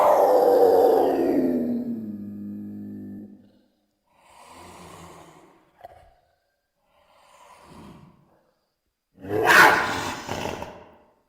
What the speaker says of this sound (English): You go ahead in and get that lion.